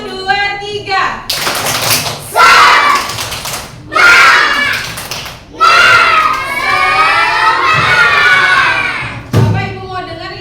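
A second-grade class of schoolchildren repeats a rhythmic spirit clap indoors, loud clustered claps and taps alongside excited children's shouts and cheering, with a teacher talking between bursts.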